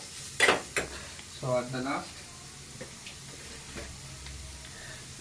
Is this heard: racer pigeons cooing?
no